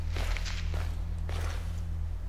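Footsteps in the horror video game Slender: The Arrival, a few soft, irregular crunching steps over a steady low ambient hum.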